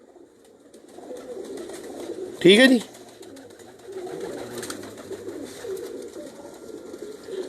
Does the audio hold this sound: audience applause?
no